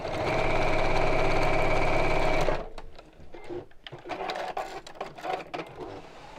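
A sewing machine stitches close to the edge of a handmade fabric gift envelope, running in a loud, steady whir for about two and a half seconds before stopping, followed by quieter handling clicks and rustles.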